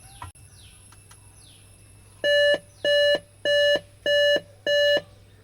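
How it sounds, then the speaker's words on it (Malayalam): A Dell all-in-one PC sounds five evenly spaced electronic beeps during power-on troubleshooting, loud and close, each about a third of a second long. Faint bird chirps are heard before the beeps begin. "ഇനിയിപ്പോൾ അത് ബീപ്പ് സൗണ്ട് വരുന്നത് നമുക്ക് റാമൊക്കെ ഒന്ന് ക്ലീൻ ചെയ്ത് ഓക്കെ ആക്കി കഴിഞ്ഞാൽ ഡിസ്പ്ലേ എടുക്കാൻ ചാൻസ് ഉണ്ട്"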